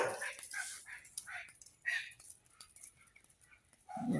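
Excited dogs on a walk let out a string of high whimpers and yips, close but soft, with quiet gaps between and a louder thump near the end.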